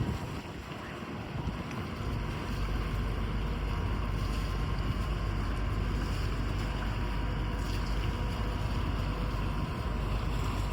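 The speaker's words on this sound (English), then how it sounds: "Water taxi just docked here." Water taxi docked at Baltimore's Inner Harbor, heard as a steady low rumble of its idling engine and lapping harbor water, with gusts of wind buffeting the microphone throughout.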